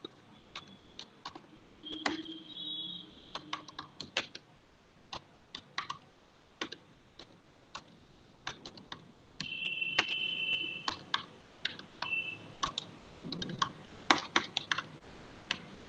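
Code being typed on a computer keyboard, irregular bursts of close, crisp key clicks with short pauses between runs and a few heavier keystrokes, no talk.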